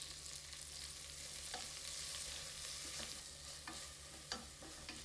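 Ginger garlic paste frying in a pan for mutton pulao, a quiet, steady sizzle with a few light spoon scrapes and clicks, faint and close, no voices.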